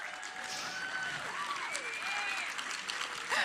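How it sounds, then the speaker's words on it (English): Applause from a convention audience at a PAX East 2022 panel, a steady wash of clapping held at one level, with whoops and cheers rising through it and a brief louder burst near the end. "I like it when you guys applaud."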